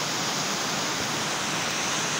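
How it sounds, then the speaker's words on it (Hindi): Flowing water of a stream in a scenic spot near Jammu, a steady, dense rush with no breaks, moderately loud and continuous, with no voices. "पानी की आवाज़ कानों में गजी महसूस हो रही है।"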